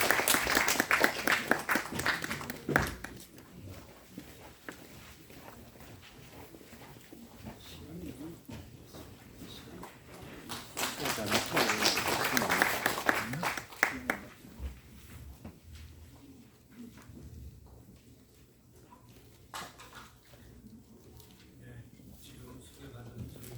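Audience applause greets an honorary professor at a Korean academic conference on the independence hero Yun Bong-gil, with two swells of clapping among stretches of speech and low murmur in a hall.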